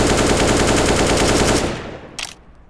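An AK rifle fires on full auto in a video game, a loud rapid unbroken burst of gunshots for about a second and a half, then a final click-like snap as the magazine runs empty.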